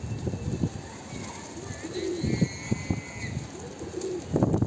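Pigeons coo repeatedly nearby in soft rounded calls, with a few chirps and quiet talk in the background.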